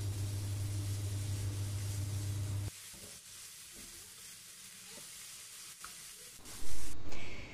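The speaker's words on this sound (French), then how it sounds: "je vais les faire revenir quelques instants, je mets le couvercle, je baisse le feu et je laisse cuire pendant 1 à 2 minutes" Bell pepper and onion sauté in a covered pan over lowered heat, a steady close sizzle that drops to a quieter, softer hiss partway through, with a brief louder rustle near the end.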